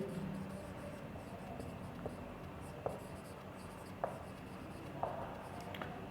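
Marker or chalk writing on a board during a geography lesson for a class 9 textbook chapter, faint scratchy strokes with a few sharp taps over a low room hum.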